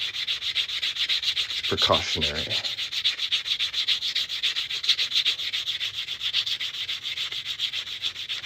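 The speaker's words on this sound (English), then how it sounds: "I'm sanding this edge and making sure it's nice and smooth before we start stretching it" Rhythmic, steady abrasive rubbing of sanding on the edge of a ring made from a quarter coin, repeating strokes; a brief spoken word interrupts near the start.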